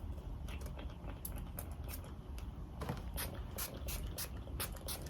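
A cosmetic spray bottle from a beauty subscription box gives several short, forceful hissing bursts at close range, repeated in a loose rhythm over a quiet room background.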